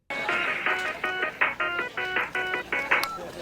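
An 8-bit chiptune ringtone rendition of a pop song plays a bright, bouncy melody of short repeated synth notes in a steady rhythm, close and clear, with no voices.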